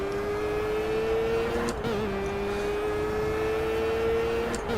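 Race car engine in the video game Project Cars holds a steady, loud whine with a brief pitch dip near the middle, like a constant high-revving drone with no talk over it.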